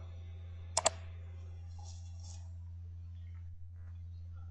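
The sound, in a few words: mouse click on the Run button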